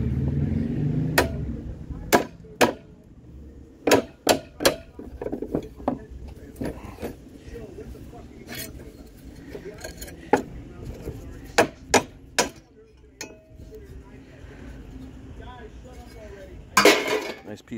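A hammer strikes an aluminum generator motor that is being broken apart for a mini bike conversion. Sharp metallic blows repeat irregularly at close range, with a person talking between them.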